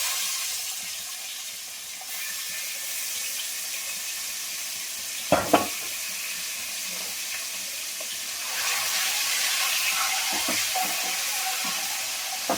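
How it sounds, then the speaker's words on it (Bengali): Eggs frying in a nonstick kadai give a steady, moderately loud sizzle and hiss, with a few sharp clinks of a utensil near the middle and a slight rise in intensity toward the end. "ডিমগুলোকে ভাজি করে নিই"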